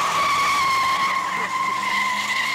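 Tires squealing on a Hurst car during a brake torque, a loud continuous high-pitched screech that holds steady and close for the whole span and drowns out any talk nearby.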